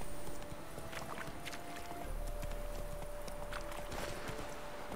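Horse hooves clip-clop at a walking pace under a steady hum of background game music in The Witcher 3.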